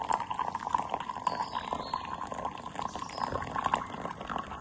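Boiling hot water pours steadily into a drink mix, a soft continuous splashing and gurgling, fairly quiet, with no voices.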